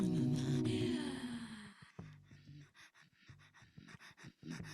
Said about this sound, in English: Here you can actually really hear the throat singer.